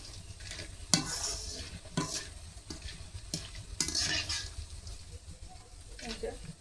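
Potatoes frying in hot oil are lifted out with sharp metal scrapes and clinks over a soft sizzle, while someone talks quietly.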